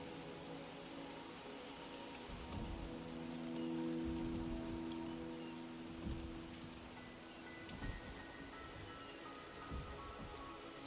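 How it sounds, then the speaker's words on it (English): Rain falls steadily in the video game Wuthering Waves, a soft continuous patter with occasional heavier drops over a faint tonal music bed, with no voices. "The rain is subsiding, and the sky will soon clear."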